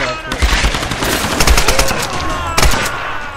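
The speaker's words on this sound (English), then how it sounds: "Gonna try my new assault rifle." Assault rifle fire in the 2013 Tomb Raider video game: rapid, loud bursts of automatic gunshots that come in clusters over a few seconds, with a voice heard in between.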